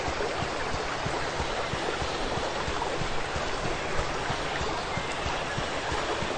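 A waterfall in a video game's countryside setting gives a steady, rushing wash of falling water, with faint rhythmic ticking underneath and no voices.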